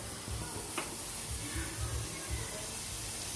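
Steady sizzling of onions sautéing in a pan, with a few soft clinks and stirring scrapes close by.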